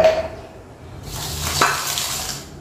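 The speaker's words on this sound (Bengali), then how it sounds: "আজকে সকালবেলা হচ্ছে ভাত রান্না করছি আর উস্তা ভাজি করছি" Thick slices of bitter gourd frying in a pan, a soft sizzle rising after a second, with a clink of utensil against the pan in a quiet home kitchen.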